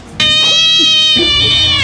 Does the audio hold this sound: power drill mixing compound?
no